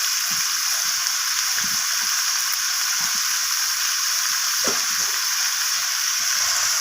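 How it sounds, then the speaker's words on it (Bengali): Chicken pieces fry and sizzle steadily in a hot pan, with a constant hiss and soft scrapes and knocks as they are stirred and turned. "ভেজে নিচ্ছি চিকেনটাকে চিকেনটা ভাজতে ভাজতে চিকেনের গায়ে একটা সাদা রং চলে আসছে"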